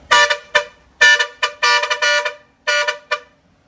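A loud Universal Yankee 300 series car horn with a 12-channel module blares in six short bursts of uneven length, close and brassy, with brief silences between honks.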